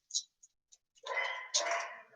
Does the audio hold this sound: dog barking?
yes